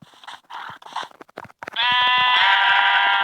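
A sheep in the video game Minecraft bleats in one long, loud, sustained cry that begins partway through, after a stretch of short clicks and game noises.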